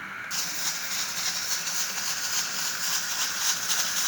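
A pressure cooker cooking Kashmiri daal gosht with chicken releases steam in a loud, continuous hiss that starts abruptly and holds steady with slight fluttering throughout.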